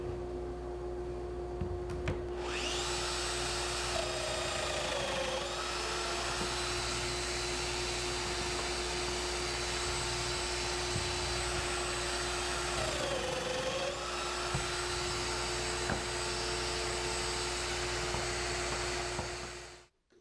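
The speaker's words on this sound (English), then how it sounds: "plunged away, cutting 2 mortises per leg" A plunge router cuts mortises in small nightstand legs held in a plywood jig, making a loud, steady high whine that runs almost the whole time with two brief dips in pitch as the bit plunges.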